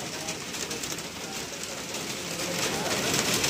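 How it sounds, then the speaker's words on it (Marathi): Steady broadband hiss of early May rain falling, continuous and slightly building toward the end, with no voices. "पावसाची सुरुवात झालेली आहे मित्रांनो।"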